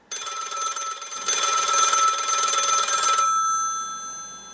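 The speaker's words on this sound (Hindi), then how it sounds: "रात के ठीक 1:17 पर कंट्रोल रूम के पुराने रोटरी फोन की घंटी बजी।" An old rotary telephone bell rings in a bright metallic trill lasting about three seconds, close and loud, then fades with a lingering ring tail.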